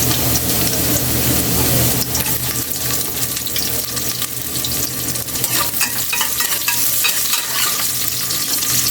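Garlic and ginger frying in a pan for a beef dish, a steady dense sizzle with stirring scrapes running continuously throughout, fairly loud and close, with no talking.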